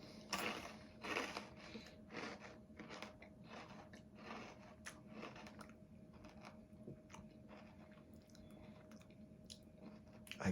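Someone crunches and chews Yummy Stix, a butter-flavoured snack, with close, quiet bites that come in irregular bursts over a low steady hum.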